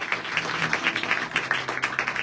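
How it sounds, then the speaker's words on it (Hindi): Congregation at a church service applauding a brother named Shiv, a steady wash of many hands clapping at moderate distance, with no speech over it. "आइए भाई शिव के लिए जोरदार तालियां बजाएं।"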